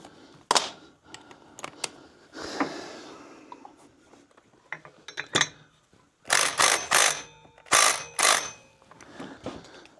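A ratchet clicks in short bursts while tightening on a Stihl 026 chainsaw, close-up mechanical clatter mixed with handling knocks and scrapes, the ratcheting strongest in several loud strokes toward the end.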